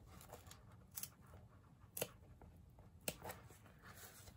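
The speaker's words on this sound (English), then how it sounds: "snipping right up to that corner but not into the stitching." Scissors snip through bag fabric toward a corner while sewing a Swoosh Bag, giving three or four quiet, crisp cuts spaced about a second apart over a soft, steady background.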